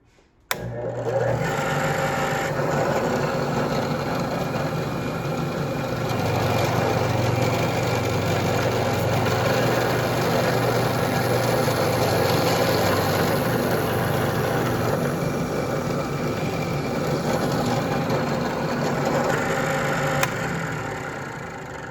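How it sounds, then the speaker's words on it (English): A drill press runs with a steady, continuous motor whine and grinding drone without pause for the whole stretch, loud and close, with faint ticks near the end. "we have our drill press set up, have it lined up properly to the marks"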